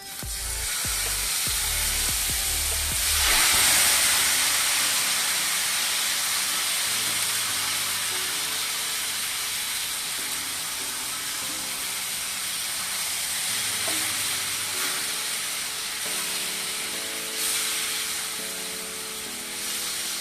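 Bombil fish frying with turmeric in a Konkani-style pan gives a loud, continuous sizzle and hiss close by, with a few clinks and shifts of the pan and no talking.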